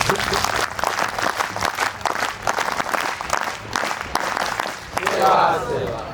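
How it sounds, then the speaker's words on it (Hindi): Applause from a live audience at a talk on poultry, fish and goat farming, dense clapping rising near the end, mixed with crowd noise and a speaking voice. "जोरदार सिग्नेचर ताली हो चाहिए"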